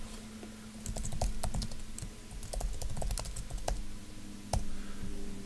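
Fingers type on a computer keyboard in quick, uneven bursts of close, crisp clicks, with a few louder key taps, over a faint background hum and no talking.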